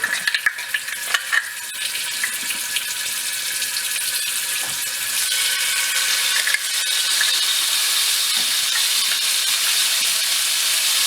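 Garlic frying in hot oil for a ghia kofta curry, a steady close sizzle with stirring scrapes over a continuous crackle, no voices.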